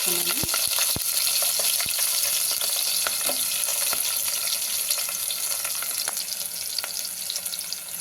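Cardamom, bay leaf, green chilli and onion fry in oil for brinjal pulao, a close, continuous sizzle broken by sharp spoon clicks against the pan.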